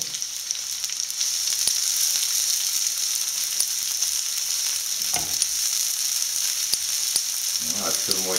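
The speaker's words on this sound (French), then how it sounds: "On va commencer par mettre les poivrons rouges, poivrons verts, préalablement découpés." Chopped red and green peppers sizzle in a hot pan, a steady bright hiss with occasional pops and a few scraping stirs near the end, no voices.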